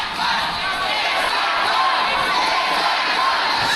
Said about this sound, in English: The crowd is displeased